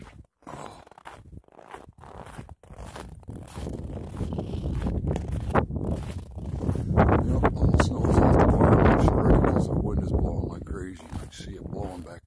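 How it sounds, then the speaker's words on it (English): Strong winter wind during an arctic cold blast in southern Vermont, blowing snow into drifts; gusty rushing and buffeting on the microphone builds louder toward the end, with a person talking over it. "See it blowing back there, making snow drifts. Just wind like tornado."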